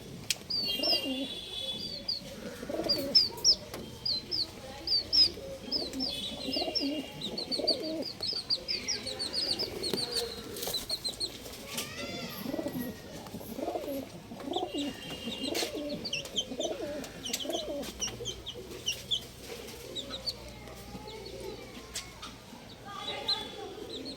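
Pigeons of a breed kept for sale coo repeatedly in soft, overlapping throaty calls, close by, with occasional chirps from other birds in the background.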